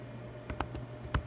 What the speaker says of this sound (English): Now we have to type the command setup